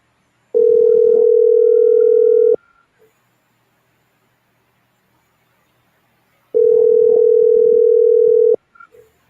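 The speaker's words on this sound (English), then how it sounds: "So the phone is ringing." Telephone ringback tone on an outgoing call placed from a village: two long, steady buzzing tones of about two seconds each, separated by roughly four seconds of silence, loud and clear with no talking.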